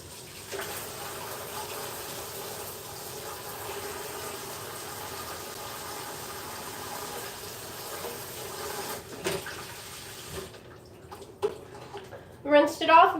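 A cookie sheet being rinsed under a running tap: a steady, fairly quiet hiss of flowing water for about ten seconds, with a few knocks and a voice near the end.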